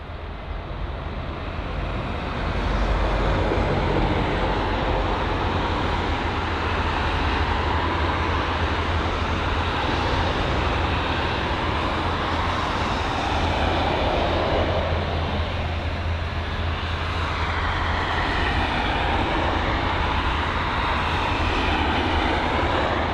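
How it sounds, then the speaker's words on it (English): A Eurowings Airbus A319 taxiing at London Heathrow gives a steady, loud jet engine whine and broadband roar that holds for over twenty seconds, close by and swelling slightly as it passes, with no talking. "Got the Eurowings A319, just about to pass the 350"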